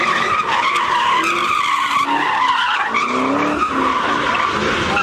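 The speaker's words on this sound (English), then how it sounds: "I knew I heard that supercharger." Supercharged Chevrolet Camaro ZL1 roaring at a large Los Angeles street car meet, its tires skidding and squealing in a loud, continuous burst with the engine's whine and roar throughout.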